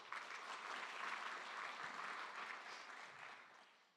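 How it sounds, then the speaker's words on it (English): Faint, distant-sounding audience applause at a smart city mayors' summit, a steady wash of many hands clapping that swells slightly and then fades out, with no voices over it. "Again, warm round of applause, please."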